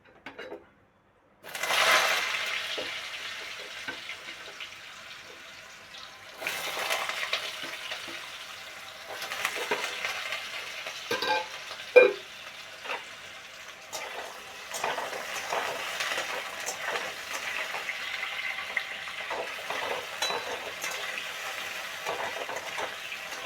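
Cut potatoes dropped into hot oil with cumin seeds and bay leaves, sizzling and crackling steadily after a sharp splash, with occasional stirring clatter and bursts of spitting oil throughout.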